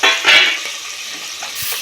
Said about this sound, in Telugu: ఎల్లిగడ్డను ఈ పోపులో వేసి కలుపుకోవాలి.